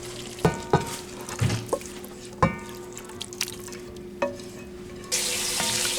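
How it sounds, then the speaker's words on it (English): Pasta dish being stirred in a pot while sizzling and frying, with scattered clinks and scrapes of the spoon against the pot, close up and moderately loud, no talking. "now we're just going to put this in the pot with the pasta"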